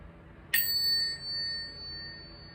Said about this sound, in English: In a moment, when you hear the bell,